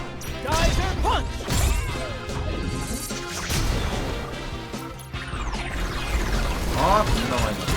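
Heavy smashing punch impacts and crashes from the Grendizer robot fighting video game, loud and near, coming in a dense, continuous barrage with whooshes, under a voice shouting attack names.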